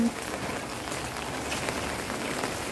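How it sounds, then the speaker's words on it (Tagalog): Steady rain falling outdoors, a dense even patter of drops hitting surfaces, continuous and fairly close with no one talking. "umuulan pa rin"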